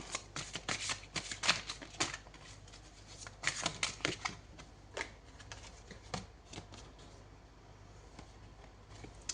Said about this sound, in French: Allez, je prends une troisième carte.